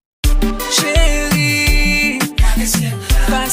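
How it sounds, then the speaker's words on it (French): Guitar melody sound added to a Kompa beat, its sustained tonal line running over punchy bass and percussion in a loud, dense mix that continues steadily for a few bars. "Là, on a ajouté un autre son de mélodie, c'est un son de guitare."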